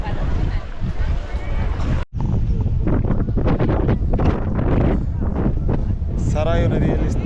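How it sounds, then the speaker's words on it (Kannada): Strong wind buffets the microphone on a boat crossing the Sarayu river near Ayodhya, a steady loud roar with water and engine rumble beneath, briefly cutting out once, while people talk over it. "ಗಾಳಿನೂ ಜೋರಾಗಿ ಬರ್ತಾಯಿದೆ"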